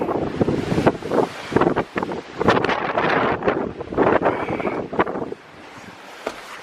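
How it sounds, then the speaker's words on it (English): Strong outdoor wind buffets the microphone in loud, rumbling gusts that surge and ease over several seconds, with no voices. "This wind. Oh, this wind."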